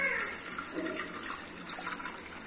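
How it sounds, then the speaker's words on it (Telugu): Water poured into a pressure cooker over soaked chickpeas, a soft, steady splashing stream heard faint and close for a couple of seconds. "ఇదిగోండి పోసుకుంటాను వాటర్"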